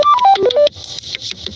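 A phone ringtone plays a quick run of bright descending electronic tones, then fades into faint, thin trailing sound, heard close and alone.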